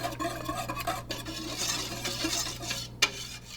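Hot chocolate mixture being stirred in a pot, a steady run of soft scraping and swirling strokes with a light clink near the end, close and moderate in level, no talking.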